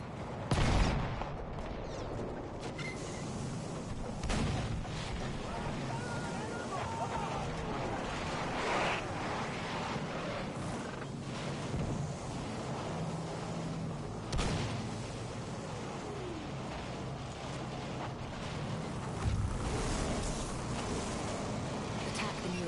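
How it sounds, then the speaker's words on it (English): Enemy artillery barrage in the Battlefield 1 video game, with repeated booms and bursts of distant and mid-range gunfire rolling through continuous battlefield noise, with a voice talking over it. "Wait for the enemy artillery barrage to stop firing"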